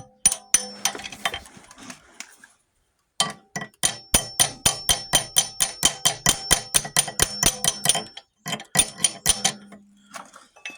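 A socket wrench ratchets on an engine head bolt, a quick run of sharp metallic clicks in rapid even bursts, close and crisp, pausing briefly before a longer steady series and a few final clicks.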